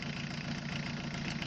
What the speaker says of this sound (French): Voici le moteur tournant. On remarque au bruit que le moteur tourne bien.